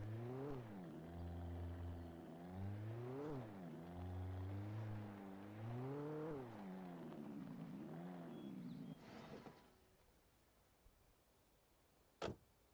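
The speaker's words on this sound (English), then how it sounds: "Whatever, shitty Ranger vehicle." The Ranger vehicle in Alan Wake drives along, its engine repeatedly rising and dropping in pitch as it revs and shifts, then cuts out into quiet, followed by a single sharp click.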